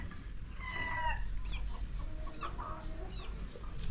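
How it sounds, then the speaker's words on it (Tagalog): Young chickens raised from chicks cluck repeatedly in a nearby yard, short rising calls overlapping one another over a steady low outdoor rumble, with no voices. "So ito yung mga dating sisiyo natin. Medyo malaki-laki na sila."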